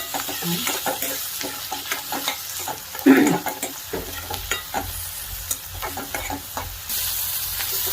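Onion and tomato sautéing together in a pan for a chakolya dish, a loud, steady sizzle with frequent spoon-stirring scrapes and one sharper clatter partway through, close and without speech.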